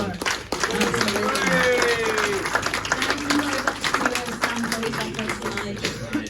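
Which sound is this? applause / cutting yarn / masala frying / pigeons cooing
applause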